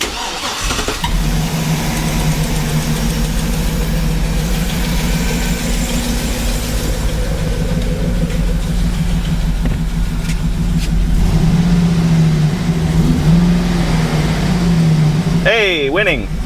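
A GMC Yukon 6.0 V8 cranks and catches, then runs continuously with a rough, uneven misfiring idle, loud and close, with brief voices near the end.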